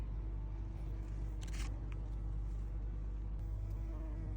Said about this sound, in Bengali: এই যে মৌমাছি বন্ধু